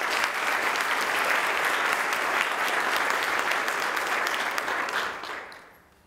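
Steady applause from an audience at a tourism industry seminar, holding dense and even for about five seconds before fading out toward the end.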